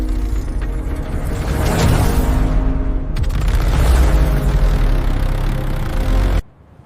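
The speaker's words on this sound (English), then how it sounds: "The engine settles into a smooth idle." A monster truck's big engine rumbles loudly and steadily, a deep sustained roar with a surge partway through, before cutting off abruptly at the end.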